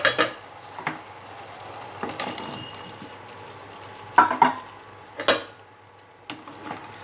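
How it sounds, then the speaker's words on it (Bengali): Fried young jackfruit and potato tipped into a pan of cooking spices, sharp metallic clanks and scrapes spaced over a soft steady frying hiss, close and fairly quiet between the hits, no voices. "এইবারে ভেজে রাখা ইঁচড় আর আলুটা আমি দিয়ে দেব।"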